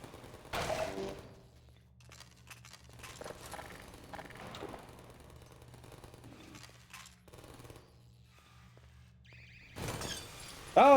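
Glass windows shatter under gunfire in Half-Life 2, with scattered cracks and pops, then a louder burst of breaking glass near the end, with no voices.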